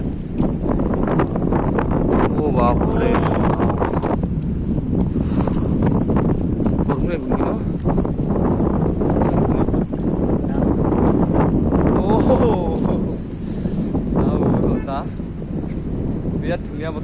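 Strong wind gusts across a microphone on Digha Beach, a heavy, continuous roar that buffets throughout while a person talks over it.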